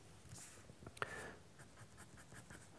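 A soft 4B pencil sketching on paper, faint scratchy strokes in quick irregular bursts with one sharper tap, quiet and close.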